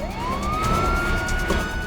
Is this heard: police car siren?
yes